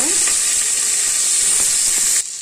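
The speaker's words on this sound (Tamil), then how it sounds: "இந்த தக்காளி வெங்காயம் இதெல்லாமே எல்லாமே ஒன்றா போட்டு வதக்கலாங்க" Tomato and onion frying with biryani spices in a pan for coconut milk rice, a loud steady sizzle and hiss up close that cuts off abruptly near the end.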